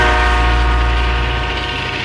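A train rolls past loud and close through backyards in small-town Chase, Maryland, a continuous heavy rumble with a steady droning tone and no voices.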